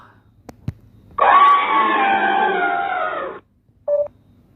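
An elephant trumpets in one loud, sustained blast lasting about two seconds, followed by a short higher squeal, with a few faint clicks and quiet gaps around it.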